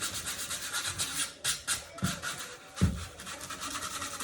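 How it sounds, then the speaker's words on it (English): A foam core shoe is sanded with 220-grit sandpaper, a close, rhythmic rubbing and scratching with repeated back-and-forth strokes and a couple of sharper knocks, continuous and alone. "quick sand all the way around"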